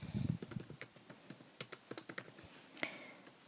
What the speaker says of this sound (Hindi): लेट्स सपोज मैं अपना नेम ही जो है वो टाइप कर देता हूँ